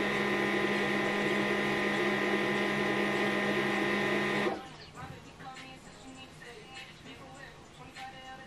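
An HP LaserJet Pro M15W printer runs with a loud, steady mechanical whine for about four seconds, then cuts off. Soft clicks and faint handling noises follow.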